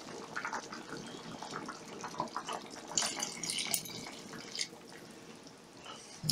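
A glass of water is poured into a pot of simmering beans with smoked pork ribs and sausage, giving faint, close splashing and trickling in short uneven bursts with no talking.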